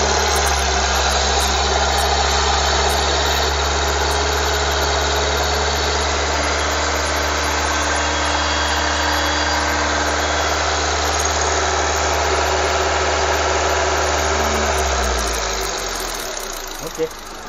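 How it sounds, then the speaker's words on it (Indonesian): A used car engine with automatic transmission holds a steady, raised hum at 2000 rpm for about fifteen seconds, then drops away near the end. "Coba kita akan gas 2000 rpm."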